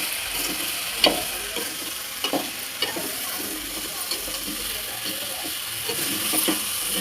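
A spoon stirs curry with salt, turmeric and chili powder through a pan in a home kitchen, steady close scraping strokes with a few sharper clinks over a constant frying sizzle.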